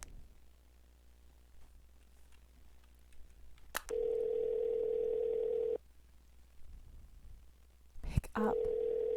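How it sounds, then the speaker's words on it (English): A steady electronic telephone ring tone from the video game Sally Face sounds in two bursts, one lasting about two seconds and a second starting near the end, over a quiet low background hum. "Pick up the phone,"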